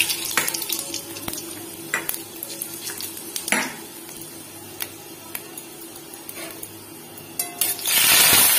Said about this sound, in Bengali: তেলটা গরম হয়ে গেছে, তেল দিয়ে ধোয়া উঠছে। এবার আমি ফোড়ন দেবো।